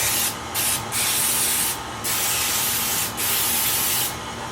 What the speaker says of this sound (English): spray it down with some baking spray from Pam